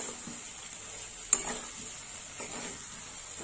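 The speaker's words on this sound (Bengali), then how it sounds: "সব একসঙ্গে কষে নেব।" Fried potatoes, fish head and bottle gourd are stirred and sautéed together in a pan, a quiet soft sizzle with faint scraping and one sharp clink of the utensil on the pot.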